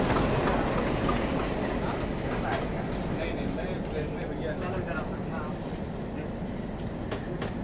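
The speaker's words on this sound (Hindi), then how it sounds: "इसमें भी एल्को डीजल लोकोमोटिव लगा हुआ है शंटिंग के लिए।" An Alco diesel locomotive shunting at LTT station in Mumbai during rain, heard as a dense, steady rumble and rail clatter mixed with rain hiss, fairly close and constant, with voices over it.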